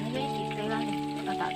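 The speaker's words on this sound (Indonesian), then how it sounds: "Iki tempene goreng." Tempeh frying in a pan in a village kitchen during cooking for a fast-breaking meal, a steady close sizzle with a low cooking hum running throughout.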